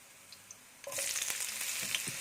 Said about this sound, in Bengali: এটা কিছুক্ষণ আমি ফ্রাই করব, 1 মিনিটের মতো।